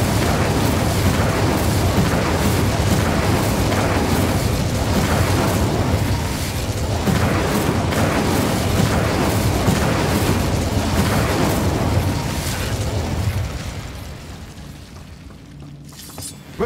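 A fiery blast from the Incendio spell in Hogwarts Legacy, a dense, loud roaring burst of crackling flame and booming impact that sustains for many seconds before fading away near the end, with no talking.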